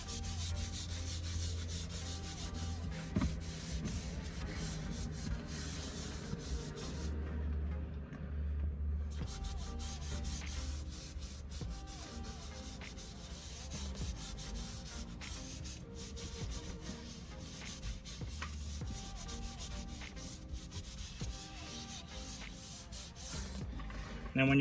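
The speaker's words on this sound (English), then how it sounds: "So just keep rubbing it in." Leather cleaner being rubbed into car leather seats by hand during auto detailing, a continuous soft scrubbing friction close to the microphone, steady throughout with a brief pause midway.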